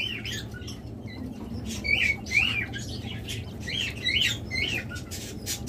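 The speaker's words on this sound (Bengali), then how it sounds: "চমৎকার কিছু কোয়েল পাখি এবং পৃথিবীর সবথেকে ছোট প্রজাতির কোয়েল পাখি এগুলো" King quails calling, the world's smallest quail species, kept among caged birds for sale: repeated thin high chirps and short whistled notes over a low background hum, close by.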